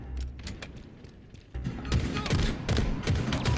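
Gunfire in the shooter game Halo Infinite, a quieter rattle at first that swells into dense, rapid bursts of automatic shots and thuds, close and sustained.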